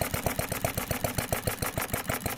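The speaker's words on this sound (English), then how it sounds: "the air regulator lets me run the engine" A live steam model engine with spark ignition, run slowly on compressed air, gives quick, even mechanical clicks and puffs, about five to six beats per second, close and steady.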